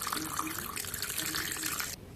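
Water poured into tamarind pulp and stirred, a continuous close splashing and sloshing of liquid for about two seconds, alone, ending abruptly.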